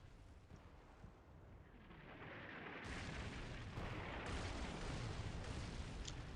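Soviet Army artillery fire in a realistic tactical war game, heard as distant booming and a continuous broadband roar that swells and holds steady.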